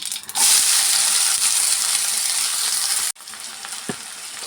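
Sliced onions fry in hot oil for a fresh field-bean (avarekalu) bassaru, giving a loud, dense, continuous sizzle that cuts off abruptly and resumes more quietly near the end.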